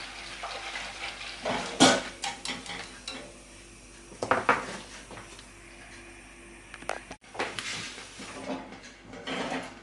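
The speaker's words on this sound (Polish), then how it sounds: "Budyń gotujemy około 3 minut. Mieszamy" Pudding cooking in a pot is stirred, with the spoon scraping and clinking against the pot in several uneven bursts between quieter stretches. No one speaks.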